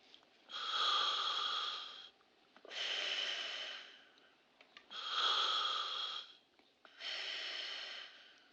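Four long, heavy breaths from the 1967 film The Graduate, each loud and close with a raspy, hollow rush of air, separated by brief pauses.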